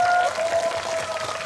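Applause from a concert audience at an outdoor festival, a steady wash of many hands with a sustained musical tone ringing faintly underneath.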